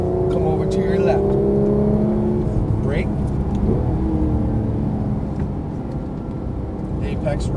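Porsche 911 GT3 of the 991 generation accelerating on a racetrack, its engine note rising steadily and holding loud throughout while an instructor's voice talks over it.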